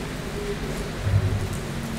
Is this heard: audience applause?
no